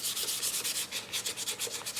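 Sandpaper scrubs repeatedly across the wood of a custom quilted mandolin, a close, even rhythm of short hissing strokes repeating several times, with no talking.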